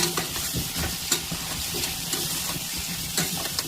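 Vegetables fry with chili powder and spices in a hot pan, giving a continuous, close sizzle broken by repeated spatula stirs and scrapes at an uneven rhythm.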